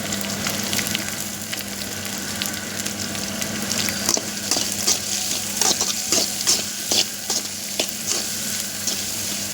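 Onions and carrots sizzling in a pan at home, with a steady frying hiss and irregular scraping clicks as the vegetables are stirred, heard close with no talk.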